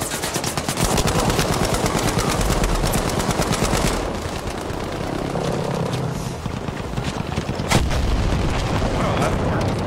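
Artillery strike called in during Battlefield V on the Devastation map, Breakthrough mode: a dense, continuous barrage of blasts and rapid gunfire with a sharp impact near the end, while players talk over it.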